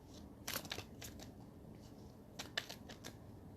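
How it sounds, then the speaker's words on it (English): Tarot cards riffled and shuffled in two quick bursts, papery flutters and soft snaps close to the mic in an otherwise quiet room. "Spirit's telling me to shuffle these cards back into the deck"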